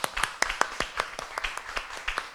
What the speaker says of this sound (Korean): 우리 이 시간 하나님께 영광의 박수를 올려드리겠습니다